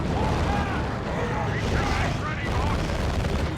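Chaos Lascannon firing in Warhammer 40,000: Dawn of War 2: Retribution, a dense, rumbling blast of battle noise that fills the whole stretch at steady loudness, with no pauses.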